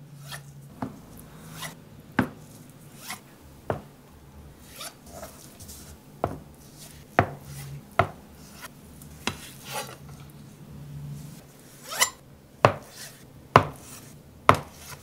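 A knife chops tofu (tokwa) into squares on a board, sharp distinct strikes arriving at an irregular pace, close and clear against a quiet room with no talk.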